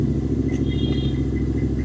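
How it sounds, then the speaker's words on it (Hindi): A loud motorcycle engine runs steadily close by, a continuous low rumble with regular pulsing throughout and no talk. "ये बाइक कितनी लाउड है"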